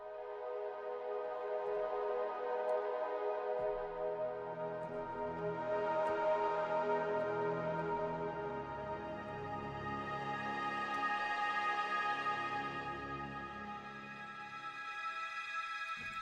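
An old 16-bit VSL flautando viola sample at C3 plays a soft, breathy sustained note that swells and fades over about sixteen seconds, quiet and alone.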